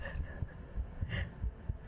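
Heartbeat captured close up through a 3Dio binaural ASMR microphone, a steady run of soft, low thumps repeating roughly every third of a second, with a faint breathy hiss and a brief swell of noise midway.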